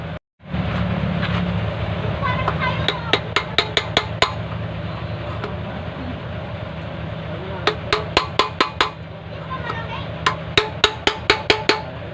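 Metal-on-metal hammer blows driving out a wheel bearing on a Kawasaki CT125 motorcycle, sharp repeated strikes in two bursts of quick rhythmic taps over a steady background hum, close and loud.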